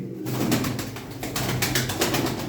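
Pigeons coo steadily in a loft, their low repeated calls layered over one another with a constant hum of birds close by; no talking.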